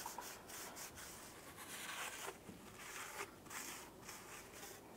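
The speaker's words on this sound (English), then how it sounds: "We'll use a rag and wipe this down afterward." A rag wiping down the rear differential of a 2003-2011 Mercury Grand Marquis during an axle seal job, making faint, steady, continuous rubbing strokes close by.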